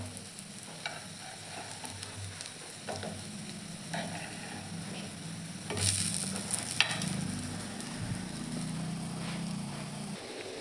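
Potato tikkis fry in a pan with a steady, close oil sizzle and crackle, occasional scrapes and stirring sounds breaking through, swelling slightly louder partway through.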